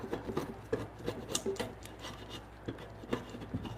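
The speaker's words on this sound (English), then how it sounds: "I was working on sharpening this draw knife" A draw knife being sharpened in a woodworking shop, giving short, quiet rasping strokes in an uneven rhythm, close by and low in level.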